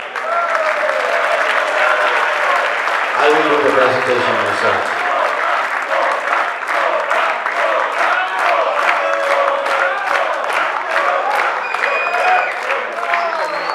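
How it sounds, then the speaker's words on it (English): Loud, sustained applause and cheering from a closing-ceremony crowd honouring the Zanzibar delegation, with occasional whoops, while someone speaks briefly over the clapping near the start. "Please, a very large applause for Zanzibar."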